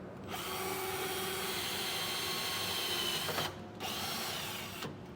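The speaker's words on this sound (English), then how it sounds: "Now we can take that pilot drill bit, line it up with that dimple, and drill a couple pilot holes" Power drill running a pilot bit through steel under a pickup truck bed while fitting a B and W Turnoverball underbed gooseneck trailer hitch, a steady close whine that cuts off briefly and then restarts.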